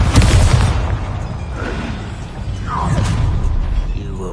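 Bombarda explosion spell in the Hogwarts Legacy video game, a loud booming blast at the start followed by rumbling debris and whooshing effects fading through the battle.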